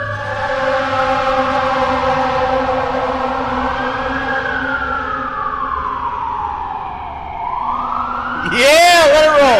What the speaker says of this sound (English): There is an ambulance going downtown.